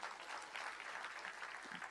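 Audience applause at the Kalaimamani arts award ceremony in Tamil Nadu, a sustained even patter of many hands clapping, moderately distant and fairly soft.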